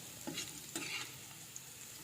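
Sweet potato leaves cooking for adobo in a non-stick pan make a quiet sizzle, with two or three short scraping stirs close by.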